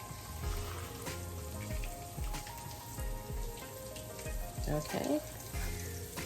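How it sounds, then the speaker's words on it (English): Pork chops frying in a pan before being stewed, a steady crackling sizzle with scattered pops near the mic, while a voice speaks briefly over it. "we're not going to fry these all the way dry"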